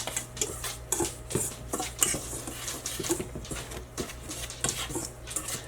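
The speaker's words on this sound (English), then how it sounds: "So I'm going to give all this a little stir to get it all combined." Spoon scraping and clinking around a bowl as bean dip ingredients are stirred together, a steady close-up patter of soft taps and scrapes with no talking.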